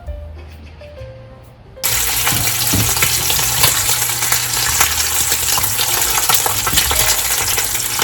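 Bacon and a fried egg for a sandwich hit a hot pan, bursting from quiet into a loud, steady, close sizzle that keeps going without a break.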